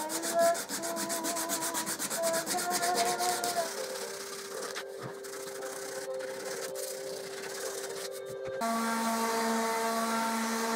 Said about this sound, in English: I did some sanding to get rid of the burn marks